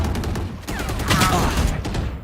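Rapid bursts of gunfire in a Valorant match, several loud close shots clustered in quick succession with a sharp crack, then trailing off, amid game ambience.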